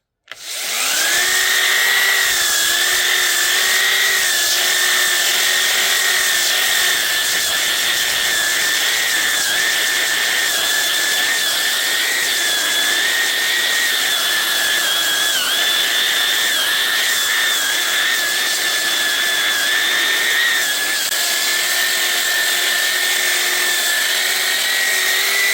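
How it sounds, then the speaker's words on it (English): Orbital sander running steadily on a small green cherry burl, a loud continuous whine with a high tonal hum that holds for the whole stretch, shifting slightly in pitch as pressure on the soft wet wood changes. "Let me use this orbital sander just to smooth it up a little bit"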